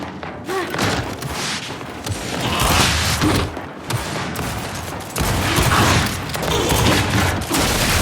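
Gnasher shotgun blasts in Gears of War 5 on the Annex map crack out in repeated booming bursts over dense, continuous in-game noise, loud and close throughout.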